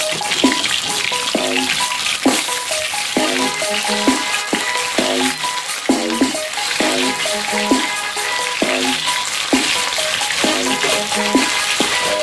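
Vegetables sauté and sizzle in a hot pan for a Jamaican escovitch fish pepper and onion topping, with a loud steady frying hiss broken by repeated stirring scrapes and clinks.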